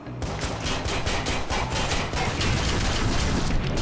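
Rapid gunfire from the video game Watch Dogs bursts out in a dense, loud, steady stream of shots that continues for several seconds with no talking.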